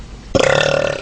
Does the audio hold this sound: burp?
yes